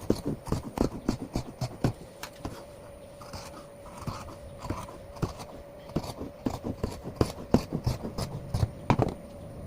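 Scissors cut through cloth for a frock-style nightie in a series of short, crisp snips and rustles, close and fairly quiet, with no speech.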